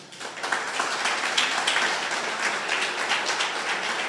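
A church congregation applauds during a sermon on repentance: a swelling burst of many hands clapping that rises quickly, then holds as a fairly soft, steady patter for about four seconds, with no talking.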